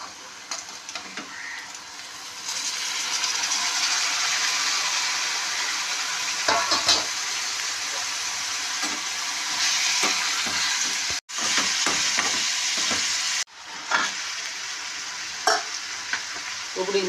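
Boiled bitter gourd is stirred into onions frying in a pan for a bitter gourd curry, producing a loud steady sizzle with spoon scrapes and stirring strokes, briefly cut off twice.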